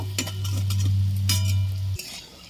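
Lentil fritters frying in hot oil in a home kitchen, a steady sizzle with a low hum, broken by a few soft utensil clinks and scrapes as they are turned; it stops abruptly near the end.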